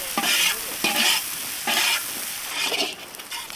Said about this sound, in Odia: ଏବେ କଟା ଯାଇଥିବା ପିଆଜଟାକୁ ଦେଇଦେବା।